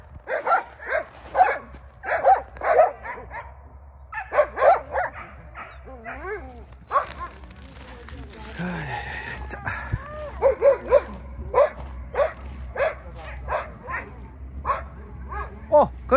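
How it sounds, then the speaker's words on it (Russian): A year-and-a-half-old dog barks and yips in repeated bursts, close and loud, with short pauses and some whimpering, while people talk nearby. "Вот это полторагодовалый новый пес."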